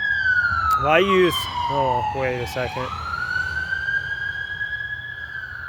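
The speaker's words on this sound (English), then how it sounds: "Oh, excuse the sirens." A siren wails close by, sweeping down and back up in pitch, while a person briefly speaks over it near the start.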